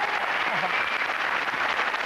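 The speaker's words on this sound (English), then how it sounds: "I like the fact that you actually got a proper cricketing round of applause for that." A studio audience at a sports comedy panel show gives a sustained round of applause, a dense, even wash of clapping that holds steady at moderate loudness throughout the short stretch.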